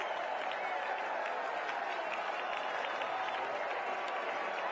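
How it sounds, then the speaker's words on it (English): A baseball stadium crowd roars after a three-run home run in an MLB spring training game, a steady, dense wall of cheering and clapping that carries at an even level throughout. "Listen to this crowd."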